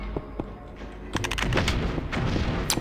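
Gunfire aimed at the player in the video game MDK2, a rapid stream of close, sharp shots and blasts packed densely together, no speech.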